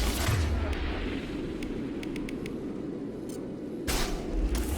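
A grenade blast in the video game Mass Effect 2 comes as a loud, deep boom at the start, then a low rumbling tail with faint clicking game effects, and a second heavy burst near the end.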